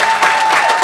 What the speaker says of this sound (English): Can we clap it up for our founders one more time?